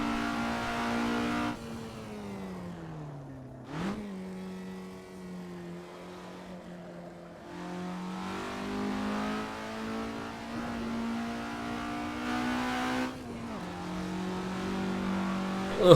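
A racing car's engine revs and drones steadily through a lap at Thruxton circuit, pitch climbing and dropping with throttle and gear changes, heard from inside the car with no talking.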